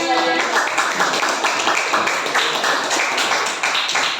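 A classroom claps for a student group, a steady dense patter of many hands that carries evenly from start to finish at a moderate, close level.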